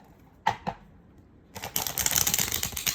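Small Art Nouveau tarot card deck being shuffled by hand: two quick riffling flicks, a pause, then a longer run of crisp, close card rustling and snapping.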